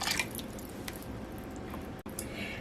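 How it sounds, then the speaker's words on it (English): Infused water poured into a Puerto Rican bread pudding (budín de pan) mixture, giving soft, wet dripping and squishing sounds that run steadily for a couple of seconds, close and fairly quiet. "now I'm also going to add my infused water."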